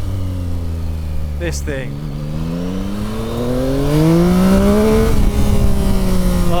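A Yamaha XSR900 GP motorcycle engine revs up, its droning pitch climbing steadily and growing louder as it accelerates, with someone talking over it.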